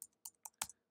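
Typing on a computer keyboard: four quick, distinct keystrokes in close succession, crisp and near, with no talking.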